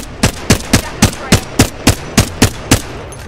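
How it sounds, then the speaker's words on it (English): Smart bullet weapon fires in Apex Legends: ten evenly spaced, sharp shots at a steady rapid rhythm over about three seconds, close and loud, with no talk. "Firing a smart bullet."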